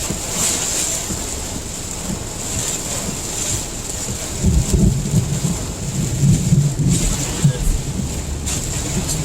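A thunderstorm with heavy rain drums steadily, and low rolling thunder swells in the second half. A voice speaks faintly underneath.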